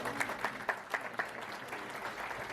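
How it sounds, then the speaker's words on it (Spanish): Church congregation applauding during a service, faint and somewhat distant clapping with a few distinct claps standing out early before it thins and fades. "Un aplauso para él,"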